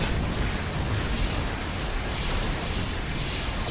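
Dense, continuous rumbling bursts of proton launcher explosions from a Star Trek Online space battle, loud and steady throughout with no pauses and no voices.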